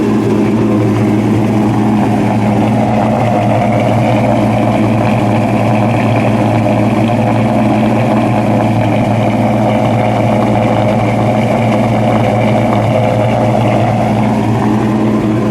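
Close, loud idle of a 1969 Dodge Charger R/T's 426 Hemi V8, a steady throbbing rumble with a loping rhythm that runs unbroken throughout, no voices over it.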